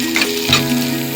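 Ginger garlic paste with turmeric frying in a pan while being stirred; steady loud sizzle with soft scraping stir strokes, close up and without talk.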